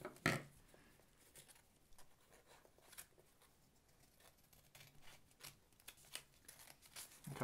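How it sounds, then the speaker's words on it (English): Scissors snip through a folded origami paper flap in faint, scattered cuts and rustles, close and quiet, with no talking. "This is the last flap that we need to cut."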